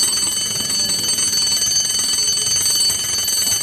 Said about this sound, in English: Suddenly, she heard the bell.